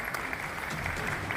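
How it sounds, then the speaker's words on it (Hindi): A crowd at an assistive-equipment distribution ceremony claps steadily, a moderately loud, continuous wash of applause heard from within the hall. "तालियों की गड़गड़ाहट पूरी जोर से होनी चाहिए।"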